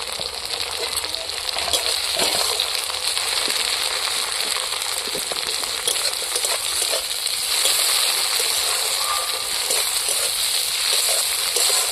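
Chopped tomatoes frying in hot oil in a pan over softened, reddened onions, a steady close sizzle with scattered clinks and stirring scrapes running throughout, with no talk.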